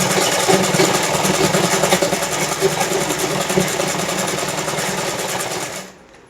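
A sewing machine stitches a double-folded hem on a salwar kameez, running loud and steady at close range for several seconds before stopping abruptly.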